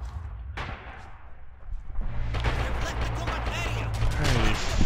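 Heavy gunfire and explosions in the World War II shooter Red Orchestra 2, with an MG42 machine gun in the mix: dense, loud bursts that build into continuous battlefield noise, with some talk over it.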